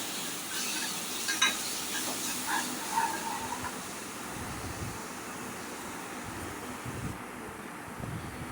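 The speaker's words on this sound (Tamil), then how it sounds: "இப்போ நம்ம அரைச்சி வச்சுருக்கிற இஞ்சி, பூண்டு, பச்சை மிளகா எல்லாத்தையும் வெங்காயத்தில் சேர்த்து வதக்கிக்கலாம்" Ground ginger, garlic and green chili sauté with onions in oil, a faint, steady sizzle with a few soft stirring scrapes near the start and no talking.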